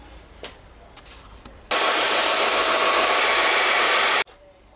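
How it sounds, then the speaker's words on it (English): A power sander takes the edge off a steel plate for a medieval arm-armor rerebrace, a loud steady grinding whoosh that starts abruptly, holds for about two and a half seconds and cuts off sharply. "So I'll put that on the sander and we'll get that back."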